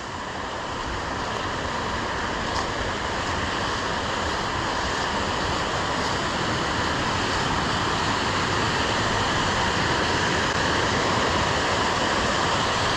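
A small, shallow mountain stream flows in the Great Smoky Mountains in winter, making a steady, dense rushing wash that stays close and unbroken throughout, with no voices.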